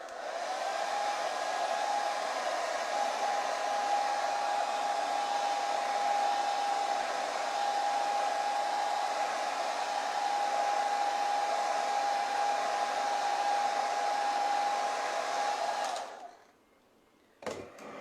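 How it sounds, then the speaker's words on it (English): A hair dryer drying decoupage craft glue blows steadily with a constant whining hum for a long stretch, then switches off abruptly near the end. "I'll use a hair dryer to dry this"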